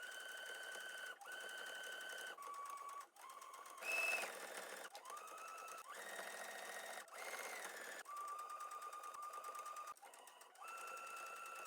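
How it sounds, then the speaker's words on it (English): A home sewing machine stitches a curved bag seam in several bursts of steady whirring, each run separated by brief pauses, loud and close with no talk. "now we're going to take it over to our sewing machine and we're going to sew with a 1/2 inch seam allowance all the way around this curve"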